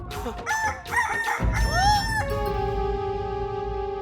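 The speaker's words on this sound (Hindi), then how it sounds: "मुर्गी ने भी भांग दे दी।" A rooster crows loudly and close by, its long call rising and then holding a steady drawn-out note, over a noisy background.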